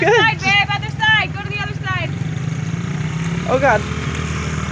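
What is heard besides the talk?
dirt bike engine as a child rides it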